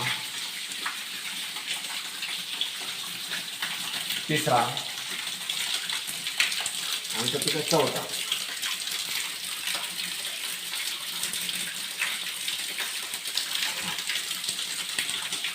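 Steady rush of water gushing from well pipes runs throughout, with people talking over it in two short stretches.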